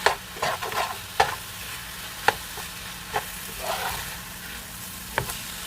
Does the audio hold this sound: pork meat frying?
yes